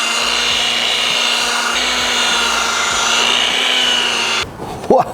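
A rotary polisher with a foam pad buffs car paint after a POR-15 one-step compound and polish, its steady whirring hum running continuously and close before cutting off near the end, with a brief handling clatter.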